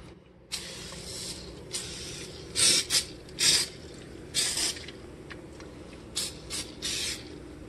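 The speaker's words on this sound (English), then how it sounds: "just going to spray it on here" A series of short bursts of stainless steel cleaner sprayed onto a sink, some longer and louder, hissing in uneven rhythm over a low background hum.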